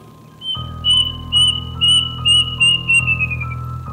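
A plaintive cuckoo repeats a loud, shrill call about six times in steady rhythm, each note bright and slightly falling, over a low constant hum.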